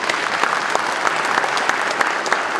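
Dense, sustained applause from a large audience at a Seogwipo lawmaker's 2024 public report meeting, steady and fairly loud throughout with sharp individual claps popping out of the crowd wash.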